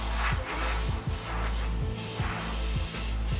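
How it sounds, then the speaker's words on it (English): Airbrush hissing a steady spray of bright red paint onto a taped Chevy emblem for an American flag design, a continuous close airy hiss broken by short regular pulses as the trigger is worked. "I stay towards the center when I spray"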